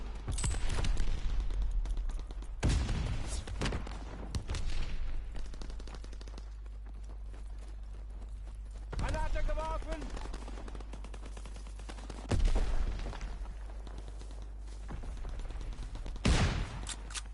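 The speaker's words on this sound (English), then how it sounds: "let's try the shotgun" Shotgun loaded with incendiary shells firing in Call of Duty WWII, with several loud, separate booming blasts spaced a few seconds apart over a low, steady game background rumble.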